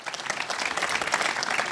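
A gathered audience at a Chateau Montelena winery celebration claps briefly and steadily, a dense, even patter of many hands with no speech.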